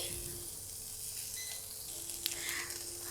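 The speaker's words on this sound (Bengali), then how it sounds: "নেড়ে চেড়ে হালকা পেঁয়াজ আর রসুনটা আমি ভেজে নিব।" Chopped onion frying in mustard oil in a pan, a steady soft sizzle with a faint tonal hum and a brief clink or two near the end, no voices.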